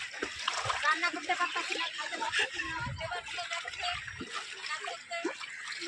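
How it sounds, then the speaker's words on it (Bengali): Monsoon floodwater rushes across a road with people wading through it: a continuous broad wash of flowing, splashing water close by, with voices mixed in. "মানুষের জলের উপর দিয়ে হেঁটে হেঁটে যাচ্ছে, রাস্তার উপর দিয়ে জল ভেসে যাচ্ছে"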